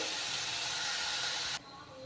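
Onions fry in a pan until brown, giving a steady, close hiss and sizzle with no voices. It cuts off abruptly near the end, leaving quiet room tone.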